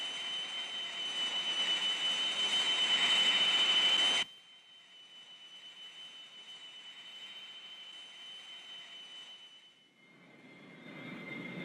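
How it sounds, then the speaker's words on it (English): An Air Force training airplane's engine drones loudly and steadily during a power-on stall series, then abruptly drops to a quieter, thinner hum before swelling slightly again near the end. "All right, Blake, let's see a power on stall series"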